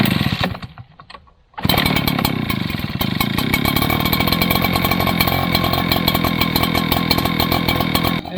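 An Echo PB9010 backpack leaf blower engine sputters briefly, drops to near silence, then catches and roars at a loud, steady run close by for the rest of the clip.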